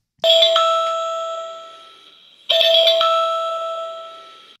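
Two ringing electronic chimes from a solar-powered WiFi security camera signalling it is ready to pair, each a bright bell-like tone that fades slowly, the second following about two seconds after the first.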